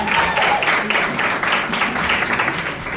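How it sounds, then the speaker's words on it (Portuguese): Applause from a class of students during a lesson, a full and fairly loud patter of many hands clapping together that carries on without a break and with no talk over it. "Então agora uma salva de palmas pro Privo"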